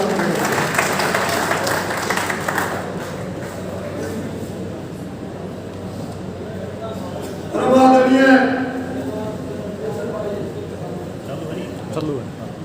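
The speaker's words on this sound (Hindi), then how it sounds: "जोरदार तालियों के साथ" Crowd applause at a community caste-council gathering in Karnal: a burst of dense clapping at the start fading into a hazy murmur, with a voice speaking briefly later.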